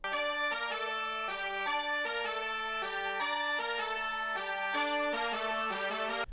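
High-energy beat melody built in FL Studio, a bright trumpet-like synth lead playing a repeating staccato phrase over a very quiet organ, steady and dense throughout with no voices.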